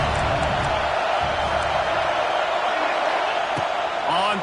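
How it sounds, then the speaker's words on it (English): Home crowd roaring loudly and continuously at a UGA vs Ohio State college football game, a dense, steady wall of cheering that fills the whole clip, with faint commentary voices underneath. "how nice is it to have the home crowd going absolutely bananas?"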